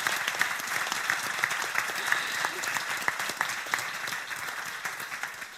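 Audience at a conference panel breaks into applause, a steady crowd clapping with some sharper individual claps standing out, and a voice speaking briefly over it.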